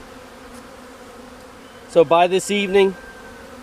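Package honeybees pour out of their shipping box into a hive, their steady low buzz droning throughout while a person speaks briefly over it near the end.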